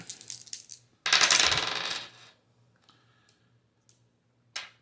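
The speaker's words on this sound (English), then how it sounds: "We roll on Spinks's card." Dice roll for a tabletop boxing game: a burst of rattling clicks, then a loud clattering tumble across a hard surface that settles, followed by a few faint ticks and one last sharp click.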